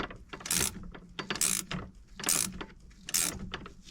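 A hand-cranked flaring tool clamped on a brake line of a 1984 Bertone X1/9, giving four close, evenly spaced bursts of sharp metallic ratcheting clicks with short pauses between turns.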